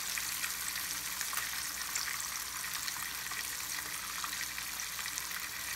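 A whole catfish fries in hot oil in a skillet, giving a steady, dense sizzle and crackle that stays loud and even throughout, with no talking.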